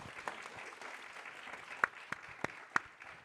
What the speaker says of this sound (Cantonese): 我哋都俾掌聲李醫生好嘛？